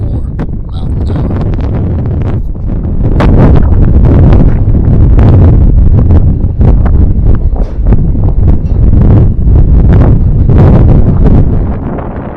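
Strong gusting wind roars across the microphone at an outdoor airgun shooting spot, blowing dust around, with loud continuous buffeting that swells stronger after a few seconds and stays rough and close throughout.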